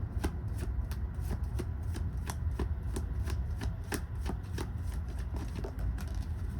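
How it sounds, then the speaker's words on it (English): A deck of tarot cards being shuffled by hand in a steady run of crisp riffling flicks, close and fairly quiet over a low background hum, with no talking. "This is going to be my last shuffle."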